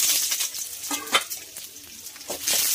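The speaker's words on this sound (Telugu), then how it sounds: "తర్వాత ఈ పోపు దినుసులన్నీ అందులో వేసేసుకోవాలి." Tempering spices and curry leaves crackle and sizzle sharply in hot oil, with quick popping bursts over a steady frying hiss, close up.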